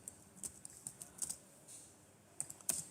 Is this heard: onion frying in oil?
no